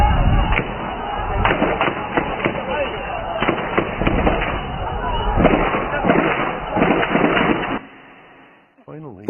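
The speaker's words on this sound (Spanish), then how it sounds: "Escuchamos disparos" Gunfire crackles amid a street clash between Palestinians and an Israeli position, with repeated sharp cracks and a few louder reports scattered over several seconds, under voices and crowd noise, before things drop to near quiet at the end.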